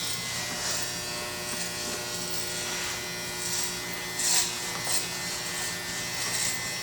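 Barber hair clippers fitted with a 1/4 inch blade cutting hair, a steady close electric buzz that runs throughout with small scraping bursts as the blade moves through the hair.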